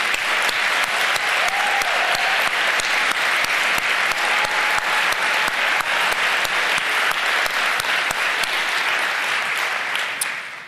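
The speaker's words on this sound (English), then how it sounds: "we can all give them an applause and congratulate them on that journey" An audience at a city council meeting applauds loudly and continuously for about ten seconds, a dense wash of clapping that fades slightly at the very end.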